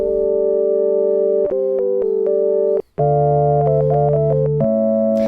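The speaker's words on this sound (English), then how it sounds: "you can create some really organ-like tones" Sustained Korg Minilogue synthesizer tones with a rich, organ-like timbre from two oscillators, holding chords that shift pitch every second or so, with a brief gap midway.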